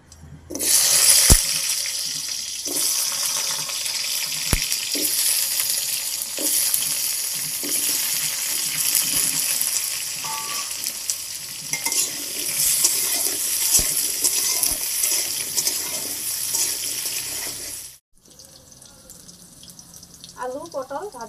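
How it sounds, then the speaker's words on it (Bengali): Potato and pointed gourd frying together in oil in a hot wok for a vegetarian dish, a steady loud sizzling hiss with scattered sharp pops that runs for a long stretch, then abruptly drops to a quieter background. "আলু পটল ভাজা হয়ে গেছে,"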